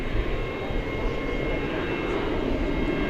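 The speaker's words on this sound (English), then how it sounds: "United Flight 640 from the Smile High city of Denver is on final approach." A United Airlines Airbus A320 inbound from Denver on final approach at DFW at night, a steady broadband engine roar holding level and moderately close for a few seconds, with no voices.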